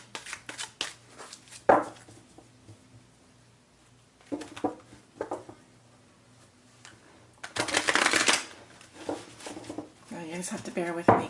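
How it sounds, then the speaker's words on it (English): Stiff, new tarot cards being shuffled by hand up close, with bursts of riffling and flicking separated by pauses, the loudest flurries late in the stretch, while someone talks between them. "these cards are very hard to shuffle. They're a little bit stiff and they need to be broken in"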